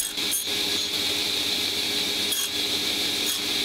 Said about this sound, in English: These, I again use the crosscut sled on the table saw to cut.